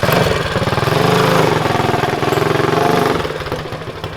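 A small motorcycle engine, run hot before removal for go-kart race prep, revs close and loud with a rapid pulsing beat that climbs and holds, then eases back as the throttle drops.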